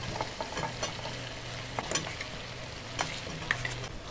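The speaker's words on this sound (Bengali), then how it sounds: "ভেজে রাখা আলুটি খুব ভালো করে কষিয়ে নেব।" Fried potatoes being stirred and sautéed in a pan with oil and tomato sauce for a Bengali rui fish curry, with soft scraping strokes over a steady low sizzle, close up.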